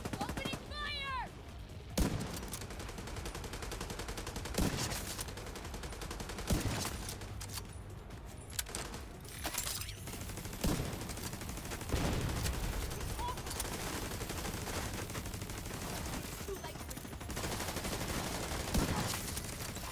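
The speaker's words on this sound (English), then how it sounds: "Opening fire!" Bursts of gunfire from The Division 2 shooter game, with sharp volleys and automatic fire scattered across a steady, busy game mix, punctuated by louder individual shots at intervals.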